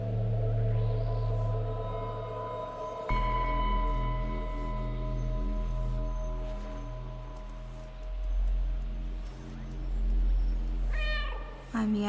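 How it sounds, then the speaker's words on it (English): Meows from the cat in the Stray video game sound over a steady low droning ambience, drawn-out tonal cries that seem to echo, with a brighter cluster of meows near the end. "My meows echo as I approach."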